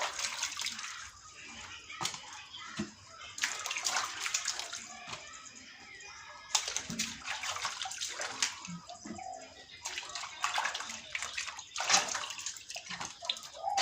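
Produce being washed clean in water at a farm garden, with continuous sloshing and splashing that swells and eases in bursts, close and fairly steady, with faint birds in the background.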